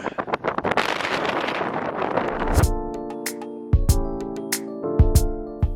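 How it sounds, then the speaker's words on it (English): Strong gusts of cold wind buffet the microphone with roaring rumble, then ease into lighter gusts under a steady tonal hum with occasional thumps. "It's very windy and cold."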